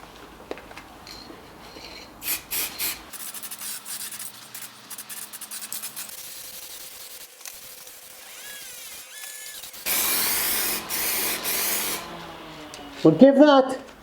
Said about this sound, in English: I'm going to start with a really light dusting of the paint.